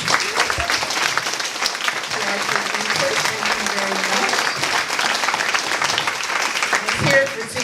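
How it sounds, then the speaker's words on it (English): Sustained audience applause at a community rally for the Santa Monica Committee for Racial Justice, steady dense clapping from a crowd throughout, with a voice faintly underneath. "We want to give a round of applause."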